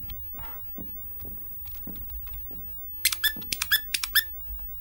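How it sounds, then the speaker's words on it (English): A squeaky toy in the horror game Nun Massacre gives a rapid run of sharp, high squeaks near the end, after a stretch of quiet ambient rumble and soft footfalls. "What's up with the squeaky toy?"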